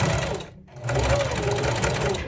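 Sewing machine stitching around a quilted witch hat brim and cone piece with batting, a loud, steady close-up whir of rapid stitching that pauses briefly before running on continuously.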